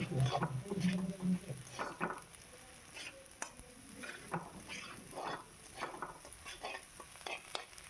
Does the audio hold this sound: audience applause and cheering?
no